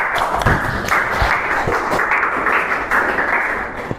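A seventh-grade class at a junior high school applauds a presenting group, a steady wash of many hands clapping at once, close and sustained for several seconds before tapering off.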